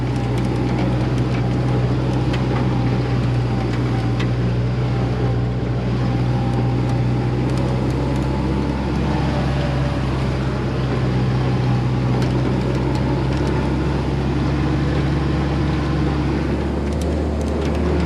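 Old Jeep Willys engine running steadily while driving at sunset, a continuous low rumble with throttle, loud and close throughout with no talking.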